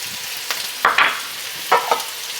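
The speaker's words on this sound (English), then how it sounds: "we got the carrots, bacon, onions, and the celery cooking down" Carrots, bacon, onions and celery cooking down in a pan with dried herbs, stirred in a few quick scraping bursts over a soft, steady background sizzle, close and without talk.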